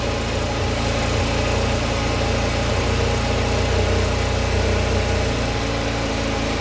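A newly assembled 2022 Bashan Brozz 250 Recon engine idles loudly nearby, a dense, unchanging mechanical drone with no breaks.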